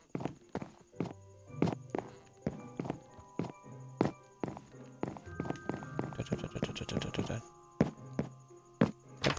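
Hooves of a horse ridden in Minecraft clip-clop in a steady run of sharp, fairly close knocks, with a denser burst of clattering steps partway through.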